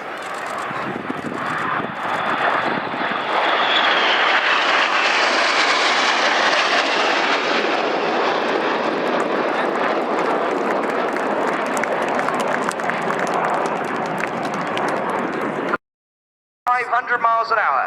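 Red Arrows jets roar past in a flying display at Yeovilton, a loud sustained engine blast that swells and then fades, with a crowd audible and a brief cut near the end.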